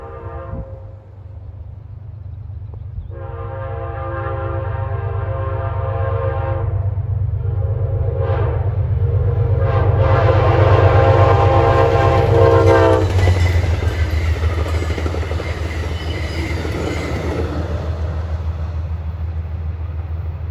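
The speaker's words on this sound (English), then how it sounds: "Coming west now is Amtrak 283, en route from New York City to Niagara Falls, New York." An Amtrak passenger train bound from New York City to Niagara Falls approaches and passes on the CSX Mohawk Subdivision, sounding a series of loud horn blasts over a building rumble of wheels and cars rolling by close.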